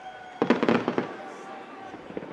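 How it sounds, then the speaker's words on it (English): A quick burst of crackling fireworks sounds at a baseball game, several sharp pops in close succession fading into the open-air background, with crowd and commentary noise faint beneath. "I have something to say about these premature fireworks."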